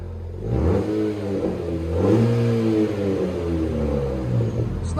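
A Chevy Malibu turbo four-cylinder with a quad-tip exhaust revs up and settles, a mid-pitched engine rising and falling in pitch, loud and close with no speech.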